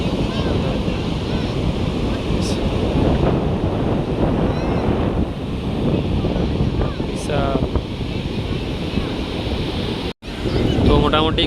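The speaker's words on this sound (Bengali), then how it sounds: "দেখো কি জলের তোড়টা দেখো, শুধু প্রচণ্ড তোড় জলের" Strong sea surf at full-moon tide on Mandarmani beach, a loud unbroken roar of crashing water with heavy wind buffeting the microphone and a brief dropout near the end.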